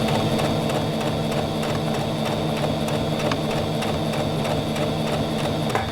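A sewing machine stitches a seam on a fabric gift basket with a fast, even, mechanical chatter and a steady hum. The sound runs unbroken and close for the whole stretch, with no one speaking.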